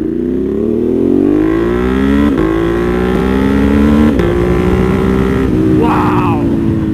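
A Ducati Monster 1200 fitted with an SC Project full titanium exhaust roars loudly and steadily up close, its engine note rising through the gears with brief shift dips, a voice briefly heard over it near the end.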